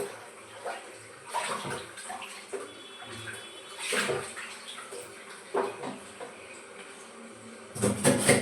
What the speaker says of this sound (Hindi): तो ये पानी भी मेरा खुल गया है।